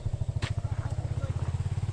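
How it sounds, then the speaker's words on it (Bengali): A motorcycle engine chugs uphill in a steady, rapid low thump, close by and laboring, with a brief bit of voice over it. "বাইক এখন উঠতেছে।"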